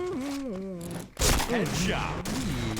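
Gunfire in the Point Blank shooter game, with a DSR-1 sniper rifle in use: a sharp burst of shots lands about a second in amid continuing game noise, and an excited voice talks over it before and after.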